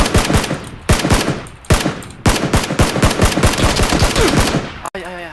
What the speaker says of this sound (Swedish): Jag var inte beredd på att du skulle skjuta.